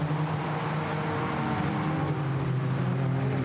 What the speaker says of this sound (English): sticks himself back in front of the GT4 McLaren of Saba Moore